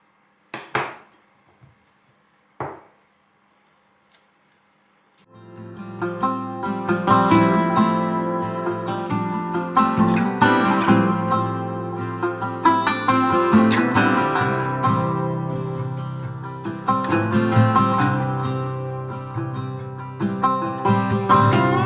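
A knife scrapes and clatters steadily as it cuts a circle to hollow out a vegetable for Greek vegan yemista, preceded by a couple of isolated taps, then continuous close scraping and clinking.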